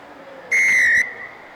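A referee's whistle at a football match between Korea and China: one sharp, loud blast lasting about half a second, clear and close over faint background noise.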